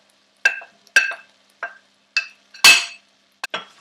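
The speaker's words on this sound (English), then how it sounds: "Give it a mix up." Mince and mushrooms being stirred in a pan, six sharp scraping clinks of a utensil against the pan spaced about half a second apart, close and distinct with quiet gaps between.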